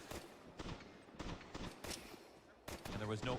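Gunfire in a competitive Counter-Strike match, with repeated bursts of rapid shots and sharp single cracks in clusters separated by short pauses, played fairly quietly beneath an excited commentator's voice.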